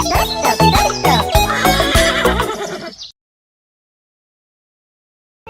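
A horse whinnies loudly over clip-clop hooves in a children's rhyme, a dense, bright burst lasting about three seconds before cutting to silence.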